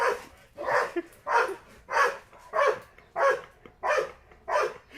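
A leashed dog barks repeatedly, about eight evenly spaced, fairly loud barks in quick succession, close by with no other sounds between them.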